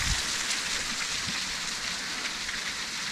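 Steady broadband rush of creek water flowing among big icy boulders in a frozen winter gorge, a continuous close hiss with no breaks and no voices.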